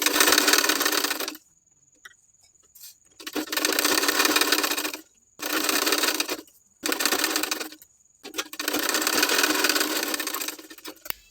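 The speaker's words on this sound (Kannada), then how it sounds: "ಈಗ ಇಲ್ಲಿ ಸ್ಲೀವ್ಸ್ ಕೆಳಭಾಗದಲ್ಲಿ ಲೈನಿಂಗ್ ಮತ್ತು ಮೇನ್ ಫ್ಯಾಬ್ರಿಕ್ನ ಸ್ಟಿಚ್ ಮಾಡ್ಕೊಳ್ಳೋಣ" Sewing machine stitching a sleeve's lining to its main fabric, running in five loud bursts of steady whirring separated by short quiet pauses, no voices.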